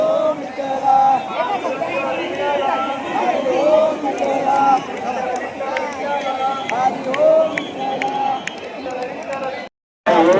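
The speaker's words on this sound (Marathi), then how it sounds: "बघा सगळीकडे सगळ्या बाजूनी गर्दीच गर्दी इकडे भाविकांची दर्शनासाठी." Devotees packed around the Pandharpur temple waiting for darshan fill the air with close, constant crowd chatter: many voices overlap in a steady hubbub that ends in a brief silence.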